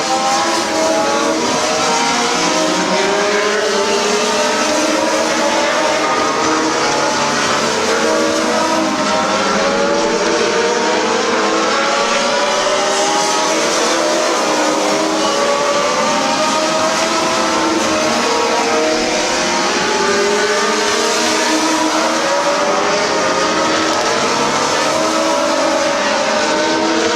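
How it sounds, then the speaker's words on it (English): Race cars roar around Midvale Speedway in a 2004 race, a loud, continuous wash of engines as the pack passes close by, with no break in the noise. "Car of Larry Young starting to close the gap between himself and the 31 of Dennis Knox"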